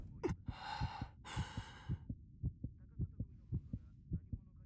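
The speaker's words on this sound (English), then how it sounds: "My heart was beating unnaturally fast." Steady, regular heartbeat thumps throb low and close in the visual novel Slow Damage, with a couple of breathy sighs over the first beats before the pulse continues alone.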